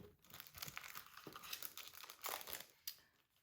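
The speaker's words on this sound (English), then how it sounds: "I'm gonna go ahead and take it out of the plastic" Plastic wrapping crinkling and crackling up close as a thick notepad is unwrapped, a busy run of rustles with a few sharper crackles, fairly quiet and with no talking.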